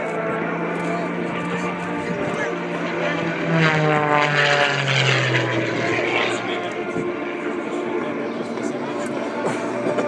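A propeller aerobatic airplane flies hand-flown maneuvers at the 2013 Bagotville airshow, its engine droning and shifting in pitch as it passes, heard under continuous announcer commentary.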